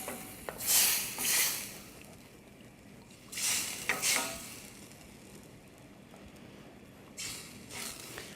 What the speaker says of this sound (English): And now we'll add the chicken stock. Stir that in.